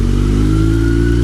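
A 2022 Kawasaki Z900 motorcycle, 948 cc, rides through city traffic, its engine giving a loud, steady droning hum heard close up for a brief moment.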